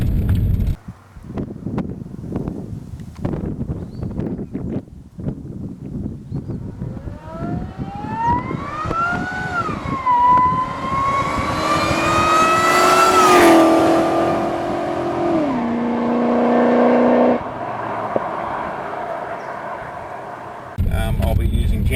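A supercharged 5.0 litre Holden pulls hard from 0 to 100 km/h: a loud engine roar climbs with whining supercharger tones, drops briefly at a gear change and climbs again, heard close over a rough idle, with talk at the start.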